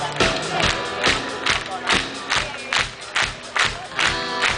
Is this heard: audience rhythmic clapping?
yes